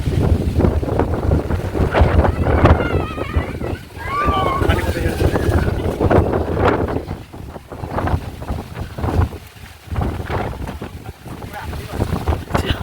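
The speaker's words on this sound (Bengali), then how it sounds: "দেখো প্রচণ্ড হাওয়া ছেড়েছে" Strong gusty wind roars under mango trees in light rain, with heavy rumbling microphone buffeting that rises and falls, while a person talks over it at times.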